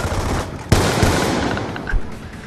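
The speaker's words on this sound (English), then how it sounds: "he's shooting through like 500 pounds of stinking concrete" Gunfire from the Black Ops 2 video game, heard as a sharp report followed by a few scattered shots over a busy, continuous game background.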